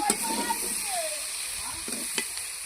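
Potatoes, tomato and chilli sizzle and hiss steadily in a pan as they are stirred, with a few clinks of the utensil and faint background noise.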